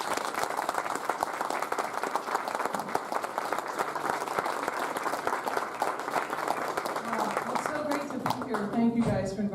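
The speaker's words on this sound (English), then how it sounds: "we all should owe her a round of applause for coming and showing up" An audience gives speaker Christina Olds a sustained round of applause, a full, even wash of clapping with a few voices surfacing near the end.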